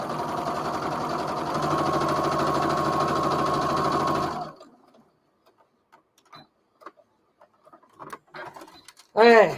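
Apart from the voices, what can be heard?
sewing machine sewing fabric down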